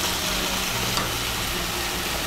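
Fried lentil chapor tossed into a hot pan of ash gourd cooking over high heat for a traditional Bengali dish, giving a dense, steady sizzle and crackle with a faint clatter near the middle, no voices.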